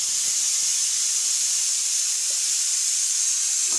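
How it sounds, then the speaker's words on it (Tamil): Steam hisses steadily from freshly cooked hot rice as the water is drained off, a loud, continuous broadband rush with a few faint low knocks underneath, no voices. "சுட சுட சோறு வடித்தாச்சு."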